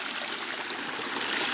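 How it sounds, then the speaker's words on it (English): Creek water flowing steadily through a wet, cool ravine lined with native ferns and palms, a continuous close broadband rush and trickle with no talking. "The creek is flowing"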